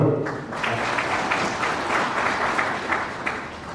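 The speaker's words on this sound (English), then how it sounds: "Another round of applause for Dr. Ado." Sustained applause from a dinner audience at a Ghanaian Independence Day awards evening, steady dense clapping throughout with a few brief louder swells, no voices on top.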